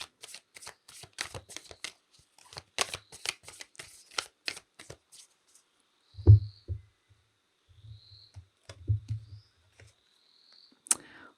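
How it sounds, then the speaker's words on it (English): Animal oracle cards being shuffled, a quick run of crisp riffling flicks followed by a few softer taps and low thumps from the deck being handled, close and quiet with no talking. "I'm going to pull an animal card as well just to support that."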